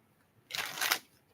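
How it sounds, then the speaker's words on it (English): A deck of playing cards is shuffled once, a short burst of riffling and flicking lasting about half a second, close and fairly quiet against a near-silent background. "Last shuffle."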